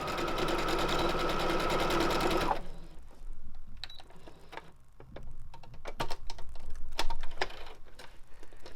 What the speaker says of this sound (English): Now back stitch at the end.